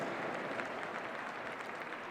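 Audience applauding a Swedish show-jumping champion on horse H&M Second Chance at an equestrian event in Paris, a dense continuous patter of clapping at steady volume.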